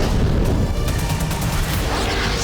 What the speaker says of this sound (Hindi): चौथा विस्फोट